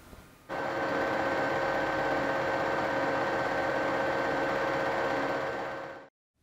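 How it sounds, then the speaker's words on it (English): Lathe machining the sides of scrap metal channels into a curved shape for a shopmade tailstock trepanning tool, a steady loud broadband cutting whine with tonal hum that starts abruptly, runs unbroken for about five and a half seconds, then stops. "So next we need to machine the sides of these scrap channels so that they follow a circular shape."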